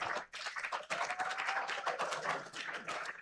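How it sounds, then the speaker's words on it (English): Audience members at a commercial bid conference applaud the winning companies, a faint, steady spatter of many hands clapping heard from a distance for a few seconds. "please give them a round of applause"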